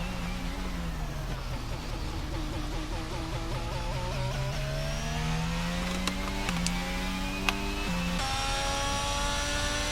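Formula 1 cars racing on the Singapore Grand Prix track in a video game give a continuous layered engine whine, with pitch rising and falling as cars pass and shift gears, plus a few sharp clicks.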